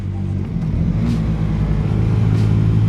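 Orcal SK01 125cc motorcycle engine accelerating on a wet road, a loud close steady rumble with rising engine tone and wind noise throughout, no talking.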